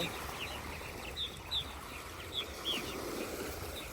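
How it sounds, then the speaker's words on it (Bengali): A few short, high bird chirps ring out sporadically in the morning over a steady wash of wind and lake waves at the shore, no one speaking. "এখানে প্রচুর পাখি মিটির মিটির করতেছে সকালবেলা"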